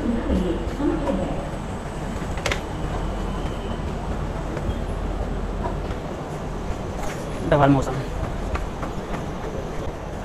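Train at a railway station platform, the Dakshin SF Express, heard as a continuous low rumble with a few sharp clanks and a brief louder burst near the end, while someone talks over it.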